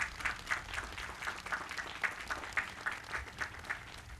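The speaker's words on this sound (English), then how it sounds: "let's give him a nice big round of applause and welcome him to the podium" An outdoor audience at a Memorial Day gathering applauds to welcome a speaker to the podium, a steady wash of rhythmic clapping from a crowd heard at moderate distance, continuing alone throughout.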